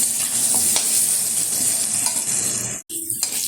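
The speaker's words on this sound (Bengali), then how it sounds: "এবার আলুটা তেলের সাথে বেশ কিছুক্ষণ নেড়ে চেড়ে নেব।" Cubed potatoes stirred in hot oil give a loud, steady sizzle with scraping, stirring texture throughout. The sound drops out sharply for a moment near the end, then resumes.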